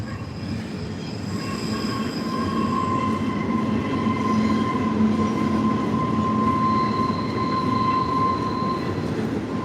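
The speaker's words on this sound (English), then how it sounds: "We got the trains going by." A train rolls past in Dayton, Ohio, a steady loud rumble of railcars with sustained metallic wheel squeal and tonal ringing throughout, no talking.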